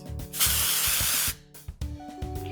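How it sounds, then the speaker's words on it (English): A dry shampoo aerosol can sprays onto hair in one steady hiss lasting about a second, close and fairly loud, with light handling clicks before and after. "I'm going to apply some dry shampoo all over to help add grit and a little bit of messiness"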